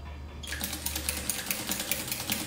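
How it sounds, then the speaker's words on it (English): An industrial sewing machine fitted with a buttonhole attachment stitches fabric, starting after a brief low hum and running as a steady, fast, close mechanical patter. "turn this lever until it's a bit hard, insert my fabric, and then I will sew."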